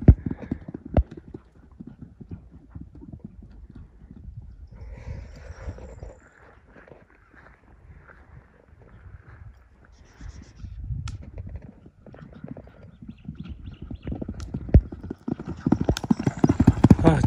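Horse hooves clip-clop in an uneven walking rhythm, close by, in Chüy, with faint background sounds and occasional louder stamps toward the end.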